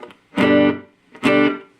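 A Mooer Shimverb reverb pedal with its decay turned down and the mix near half: two loud, bright sustained notes, each cut off quickly with only a short tail, separated by a brief gap.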